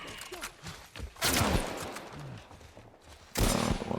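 Bursts of gunfire in The Last of Us Remastered, loud sharp shots in two clusters separated by quieter rumbling, with voices talking in between.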